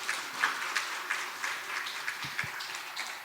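Church congregation gathered for an afternoon service claps in a moderate, fairly distant wash of applause, with no talk over it.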